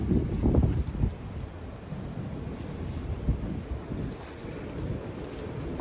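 Strong wind buffets and roars against the microphone in gusty waves, with a low rumbling wash throughout and no talking.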